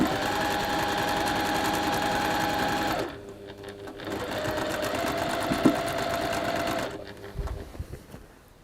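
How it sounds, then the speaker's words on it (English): A sewing machine stitches a large quilt at a steady, close hum, stopping briefly twice before starting up again. "It is just sewing."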